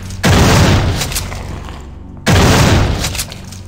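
Two loud, heavy blasts of gunfire in the game System Shock 2, each a booming burst that fades over about a second and a half, used to destroy eggs, with a short silent gap between them.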